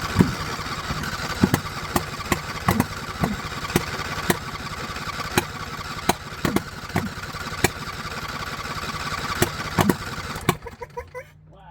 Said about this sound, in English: she's really popping out the exhaust valve